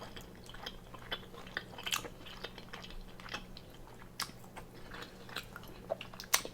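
Close, quiet chewing of shrimp scampi, with soft wet crunches and clicks repeating irregularly and no talking.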